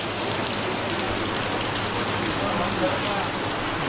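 Steady, dense rain pours down, a continuous hiss of drops striking surfaces, loud and close throughout.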